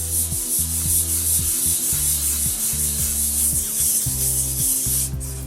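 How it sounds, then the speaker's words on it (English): Sanding a guitar body's paint and primer with 1000 grit sandpaper: brisk rhythmic back-and-forth rubbing strokes, close and loud, continuing steadily with no talk. "we're just going to take the 1000 grit sandpaper"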